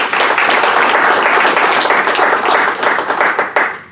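Audience applause at a black belt martial arts exam, many hands clapping steadily and fairly loud, filling the room without a break and tapering slightly near the end.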